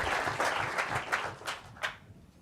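A small audience at a lecture claps, a brief burst of scattered hand claps that fades out within a couple of seconds.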